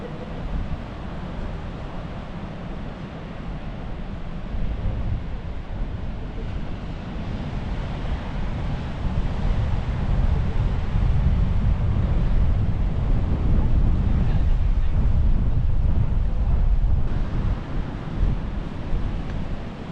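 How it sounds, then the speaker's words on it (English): Wind buffets the microphone at Branksome Chine Beach, with a broad rushing roar of surf that swells louder in the second half and carries on without talk. "And so we reach the beach, Branksome Chine Beach."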